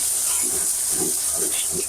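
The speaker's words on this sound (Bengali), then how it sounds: "এখন রসুন আর বাগার দিচ্ছি আমি, রসুন এবং 5 ফোড়নটা বাগার দিচ্ছি।" Garlic and five-spice seeds hit hot oil for tempering, giving a loud, continuous hissing sizzle that stays close and steady throughout the short moment.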